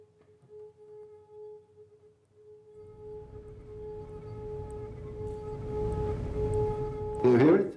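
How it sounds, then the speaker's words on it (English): A wine glass rings at its lowest resonance, close to 440 Hz, as a thin sustained tone held steadily under low rumbling noise that swells toward the end before a brief clatter. "That is the resonance of this glass, the lowest resonance frequency."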